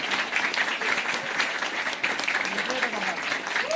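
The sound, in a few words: applause at election night event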